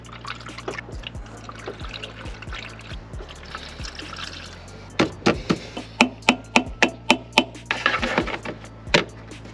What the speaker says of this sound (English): Start off with, let's put some coolant in the old girl.